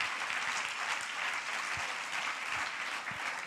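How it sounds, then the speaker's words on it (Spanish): A congregation at a Spanish-language church service claps steadily and warmly, filling the room with continuous applause. "Dele el aplauso, claro,"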